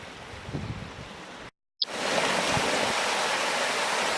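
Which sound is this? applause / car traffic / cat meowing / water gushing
water gushing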